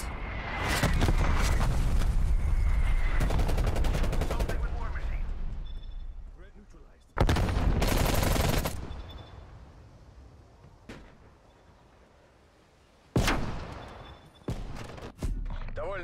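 Artillery strikes and gunfire in the PlayStation 5 game Call of Duty: Black Ops Cold War, heavy rumbling blasts and bursts at the start, then sharp loud explosions around the middle and again near the end, with game voices.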